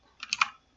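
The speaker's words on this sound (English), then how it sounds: "by just typing" A short burst of a few quick, light keystrokes on a computer keyboard, close and quiet, surrounded by near silence.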